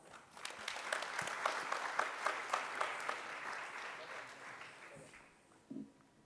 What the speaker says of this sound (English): could we please welcome her with a huge round of applause?